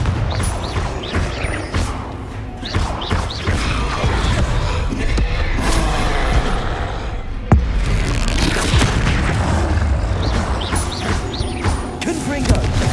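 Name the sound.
Confringo spell explosions in Hogwarts Legacy video game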